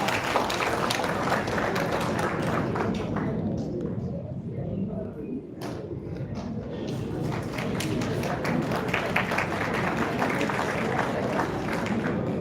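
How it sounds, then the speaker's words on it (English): Audience applause at a live college event, a broad sustained wash of clapping from a crowd that thins briefly in the middle before swelling again. "Please give a huge round of applause for our cheering person and Dean ma'am."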